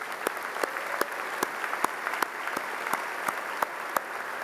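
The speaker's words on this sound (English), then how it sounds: "Let's give them a round of applause" Steady applause from an audience at a university graduate commencement ceremony, with dense clapping and sharp louder claps standing out above it.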